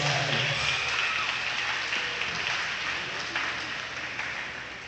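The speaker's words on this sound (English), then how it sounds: "Please join me in applause for our game officials" A crowd at a high school volleyball game claps steadily in a large gym, a broad wash of applause for the game officials that gradually fades.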